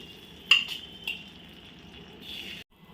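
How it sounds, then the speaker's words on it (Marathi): Sweet rava appe batter, made with pure ghee, being spooned little by little into an appe pan: a few soft metallic spoon clinks and scrapes over faint background sizzle, close and quiet, with no talking. "आता या आप्पे पात्रात मी चमच्याने थोडं थोडं मिश्रण हे घालते"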